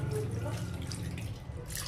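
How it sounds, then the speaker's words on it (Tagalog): Water poured over milkfish (bangus) for brining, a short splashing, trickling pour with faint background noise. "Lagyan na po natin siya ng tubig."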